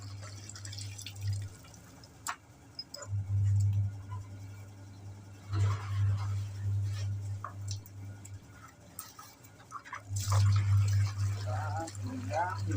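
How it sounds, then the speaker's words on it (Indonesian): Water poured over a soapy motorcycle helmet to rinse it clean, a low steady gush in three bursts separated by pauses, with dripping and small splashes between, close by. "Kita siram hingga bersih"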